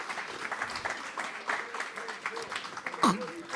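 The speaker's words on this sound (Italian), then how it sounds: "io vi chiedo un applauso per Sergio Salaorni" An audience at an Italian talk event applauds for Sergio Salaorni, a fairly quiet, diffuse patter of clapping heard from a distance, with a host's voice speaking over it.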